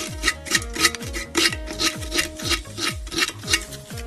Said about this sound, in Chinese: 然后我们用个砂纸把这个片儿给它打磨一下